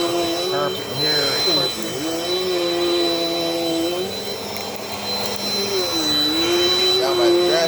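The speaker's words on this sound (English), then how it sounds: "I'm going to vacuum her carpet right fast." Dirt Devil Dynamite Plus vacuum cleaner running over carpet, a loud steady motor whine whose pitch dips and rises as the load changes with each push and pull, with a person talking over it.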